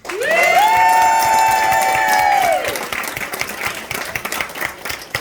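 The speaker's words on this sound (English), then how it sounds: "And a quick round of applause for the 3 of them." Audience applause and cheering at a school sports team awards ceremony, opening with a long, shrill whistle or whoop over the clapping before the crowd noise carries on at a lower level.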